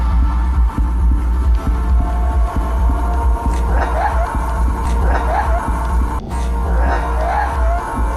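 Loud, creepy dance music with a pounding heartbeat-like pulse and heavy bass, played in a neighbor's apartment, thumps in a steady rhythm with a dense low drone throughout and faint higher sounds drifting over it.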